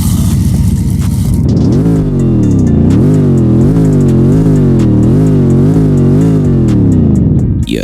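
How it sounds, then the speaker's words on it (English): Saleen S7 supercar with a deep, loud engine note, a steady idle rising into repeated revving swells and pulls as it drives, close by and with no talking. "the thing is about this car, it sounds so good. The driving sound, the idle, just listen to it."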